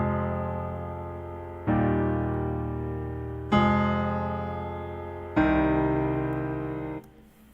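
A slow MIDI chord progression plays four sustained, wide synth chords, each struck cleanly and left to decay before the next, with no voices.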